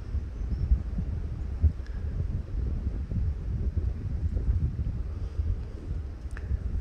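Wind blowing hard outdoors, a steady low rumbling buffet against the microphone with gusty bursts throughout.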